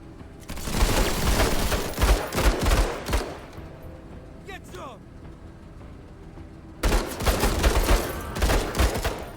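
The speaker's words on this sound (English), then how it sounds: "Then let's fire at them." Bursts of gunfire fired at commandos in the video game Menace: loud, dense volleys of rapid shots, then a quieter lull with a brief mechanical rattle, before another heavy burst of firing.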